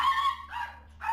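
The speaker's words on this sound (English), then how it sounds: "their current dog, Bitsy, is coping by barking incessantly." A small pet dog barks incessantly, a quick run of close, sharp barks and yips with brief pauses between them.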